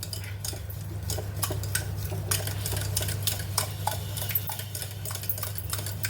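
Palm jaggery vattalappam batter stirred with a utensil in a bowl, producing continuous close scraping and light clinking strokes over a steady low hum, with no talking.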